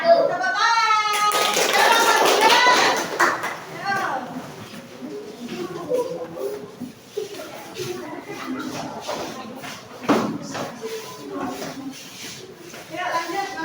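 Applause at an Indonesian discussion event: a burst of clapping from a crowd at the start that fades into scattered claps, shuffling and murmured voices.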